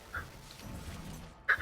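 A snail character in the video game Griftlands gives a couple of short, faint yipping barks, one near the start and a sharper one near the end, over a low background.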